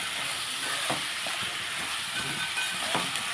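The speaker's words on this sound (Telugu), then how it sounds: "టమాటాలు అవి వేసుకుని మగ్గించుకున్నాను మూత పెట్టేస్తాను ఇప్పుడు ఉల్లిపాయలు మగ్గుతున్నాయి కదండి" Onions and tomatoes cooking under a lid in a covered pan give off a constant soft steamy hiss and low simmer, close and even throughout, with no talking.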